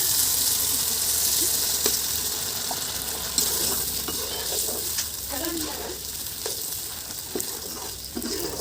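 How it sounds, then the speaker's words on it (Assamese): Meat curry frying in a pan while being stirred, a steady hot sizzle with repeated scraping and knocking of the spoon against the pan throughout. "এইখিনি ভালদৰে মিক্স কৰি ভাজি লম"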